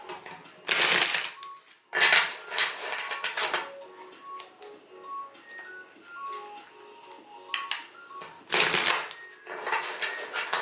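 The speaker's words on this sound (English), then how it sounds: "So I'm going to go ahead and shuffle." Tarot cards are shuffled close up in repeated bursts of riffling, with a soft chiming melody playing in the background.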